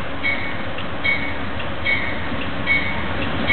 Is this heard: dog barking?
no